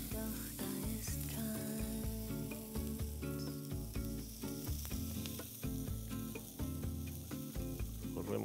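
Chicken skewers with onion and pepper pieces sizzle steadily on a hot cooking surface, a continuous close crackle and hiss with occasional faint scraping of utensils and no talk.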